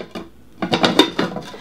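Eggs being flipped in a granite rock nonstick pan, several quick scraping and tapping clinks of a utensil against the pan surface, close and moderately loud, with no talk.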